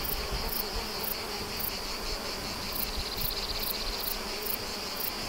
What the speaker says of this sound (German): hören wir das Summen von abertausenden Bienen, die in den Lavendelblüten Nektar sammeln.